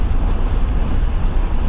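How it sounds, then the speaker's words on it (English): Steady wind buffeting and low road rumble inside a 2023 Toyota Tundra Limited driving into a strong headwind while towing, a continuous dense roar with no break. "it's really windy out here"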